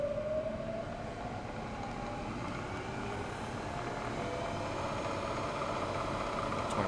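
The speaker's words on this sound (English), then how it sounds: "Go ahead and turn on our mill" A milling machine runs steadily at about 2,400 RPM, giving a continuous broadband whir with a faint rising whine near the start, at an even level throughout and with no voices.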